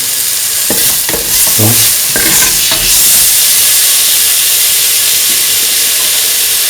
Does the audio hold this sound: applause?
no